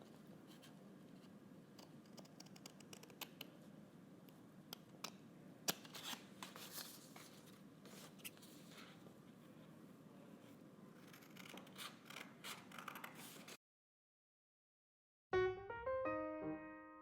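Scissors snip through a hand-drawn paper sidewalk piece for a pop-up book, giving a quiet, irregular run of small cuts and paper rustles up close, then a brief silence before a faint melodic tone.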